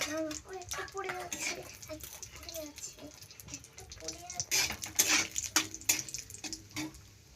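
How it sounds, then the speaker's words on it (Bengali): Cashews and raisins fry in melted ghee in a pan with a steady, close sizzle and crackle, plus some clinks of utensils, while someone talks over it. "ঘিটা গলে গিয়েলে কাজু আর কিশমিশটা ভালো করে ভেজে নেব, হালকা করে ভেজে নেব।"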